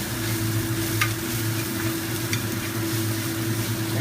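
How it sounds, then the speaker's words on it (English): Cabbage leaves frying in a pan over medium to medium-high heat, a constant close sizzle with a low hum beneath and a couple of brief spits. "After a few seconds, you can add cabbage leaves in. You want to fry this on like a medium heat"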